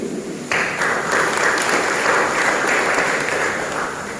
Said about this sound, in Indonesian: kita sambut dengan tepuk tangan untuk kemuliaan Tuhan